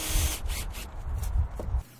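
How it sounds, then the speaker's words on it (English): NUDURA low expansion spray foam hissing from a can as it fills corner seam gaps on insulated concrete form walls, several broad rushing bursts close by, stopping abruptly near the end. "Reinforce the corner seam with NUDURA low expansion spray foam, filling the gaps that may be present"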